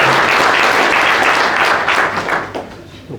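Applause fills the hall at a mayor's New Year wishes ceremony in a village, a dense, steady wash of many hands clapping that holds loud before thinning and fading out near the end.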